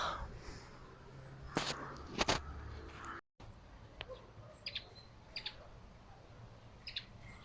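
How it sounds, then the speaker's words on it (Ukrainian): A small pink-breasted songbird chirps outdoors at Easter, giving short, sharp, scattered calls at moderate distance, with rustling and faint footstep-like sounds in a steady background. "Гості завітала ось красунька якась. Щебеч. За рожевою грудкою."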